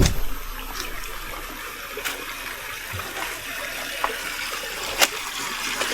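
Clear water from a mountain stream flows and trickles steadily close by, a continuous babbling rush with occasional small splashes.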